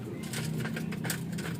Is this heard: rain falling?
no